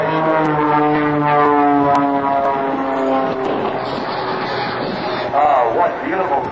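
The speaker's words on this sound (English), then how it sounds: "Both aircraft upside down and in formation." Two aerobatic propeller airplanes fly past upside down in formation at an Air National Guard open house air show, their engines droning loudly with a shifting, whining pitch under a continuous announcer's commentary over the public address.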